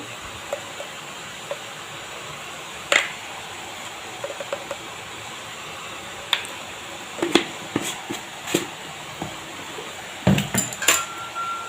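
A spoon stirs leafy greens with turmeric and salt in a metal pan, giving scattered scraping knocks and clinks that cluster toward the end over a steady background hiss, with no talking.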